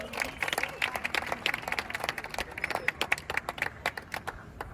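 A small group gives quiet, scattered applause for two people, with sparse, uneven claps that come in bursts and thin out toward the end, faint and close.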